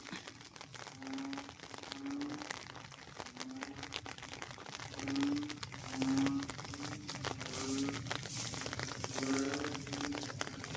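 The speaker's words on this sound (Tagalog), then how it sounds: "Yung ingay na naririnig nyo, yun po ay huni ng palaka." Frogs croaking on a farm lot, a repeated low, pulsing call at regular intervals under steady background noise and crinkling, moderately distant and fairly faint.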